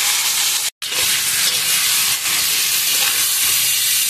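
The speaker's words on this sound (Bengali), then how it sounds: "কালো জিরা দিয়ে দিচ্ছি, বেগুনগুলো দিই" Eggplant pieces and black cumin hiss and sizzle steadily in hot oil in a pan, a loud continuous frying sizzle with one brief break near the start.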